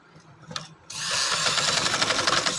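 A sewing machine stitches fabric while hemming a kameez. After a short buzz, the motor runs in one loud, steady whirring burst close by, with no talking.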